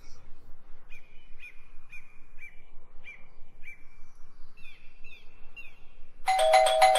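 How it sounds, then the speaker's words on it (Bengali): Electronic doorbell at a house's front door in a cartoon ghost story, a string of short, bright chirping chime tones repeating evenly, then a brief louder burst at the end. "বাড়ির সদর দরজায় গিয়ে কলিং বেলটা বাজাতেই"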